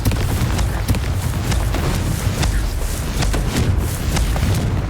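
Confringo fire spell cast in the game Hogwarts Legacy, loud booming blasts with sharp cracks over a dense, rumbling roar that stays heavy throughout.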